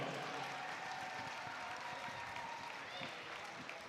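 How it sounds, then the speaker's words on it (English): An audience at a girls' ice hockey state championship gives both teams a round of applause, a faint, even wash of clapping that lasts throughout. "please give a round of applause to both teams for a well-played tournament"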